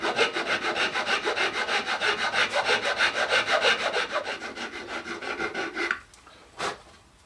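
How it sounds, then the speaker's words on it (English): Rhythmic rasping strokes of a file cutting a groove in wood, fast and evenly spaced, close and fairly loud, stopping abruptly with one last scrape after. "So I'm going to get this filed up"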